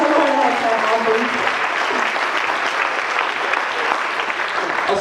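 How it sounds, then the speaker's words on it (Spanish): Applause from a church congregation during a bilingual Spanish-English sermon, a steady wash of clapping filling the whole clip with voices mixed in underneath. "A ver, denle un aplauso a Dios."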